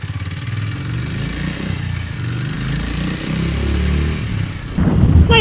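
Kawasaki W230 motorcycle engine on a ride toward Oroszlány in Hungary, a loud low steady thrum with rising and falling revs through the gears, close and continuous, with a brief sharper burst at the end.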